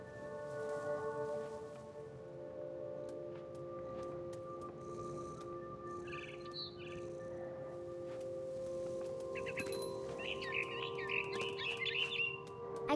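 A mother bird in the video game What Remains of Edith Finch gives soft, intermittent chirps and tweets in short clusters over a quiet ambient drone.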